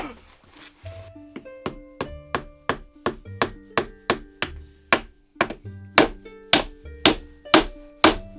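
A hammer strikes nails into a wooden owl nesting box outdoors, about fifteen sharp, evenly paced blows that grow louder toward the end, with faint talk at the start.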